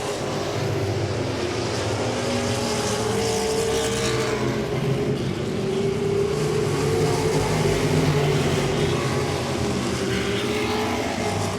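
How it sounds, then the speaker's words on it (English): Modified race cars at Langley Speedway make a continuous, loud engine roar that swells and fades slightly as the pack passes, steady for the whole stretch. "Sean Beluzzo's Easy Auto of Newport News, 48, slips by on the outside."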